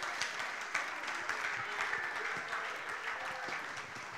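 An audience at an awards ceremony claps steadily as presenters walk to the stage, a continuous, fairly distant patter of many hands with no voices over it.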